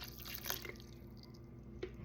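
Bottled water pouring over sea moss in a container, a soft steady trickle with a few faint drips, close and quiet with no talking.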